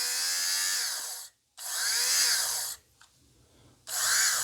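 A battery-powered Philips fabric shaver runs in three bursts of a high, whirring motor buzz, close up and moderately loud, with brief silent gaps between them.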